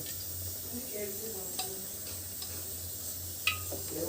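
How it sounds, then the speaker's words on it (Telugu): Spoonfuls of oil are poured into a hot pan on a lit stove. A faint, steady low sizzle runs throughout, broken by a few soft spoon clinks against the pan. "ఈ స్పూన్తో ఒక 4 స్పూన్లు ఆయిల్ వేస్తాను"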